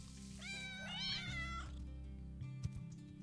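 Kittens in the video game Play with Gilbert meow, a few high, drawn-out cries close together, then a soft thump, with no voices.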